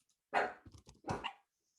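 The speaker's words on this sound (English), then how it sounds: "Dogs are barking." Dogs barking indoors: two loud, close barks about half a second apart, followed by a few softer yips and no talking.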